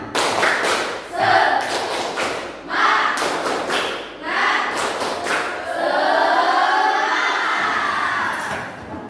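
A classroom of children performs a rhythmic spirit clap, loud claps and thumps landing in quick patterned groups, then ending in a burst of shouting and cheering.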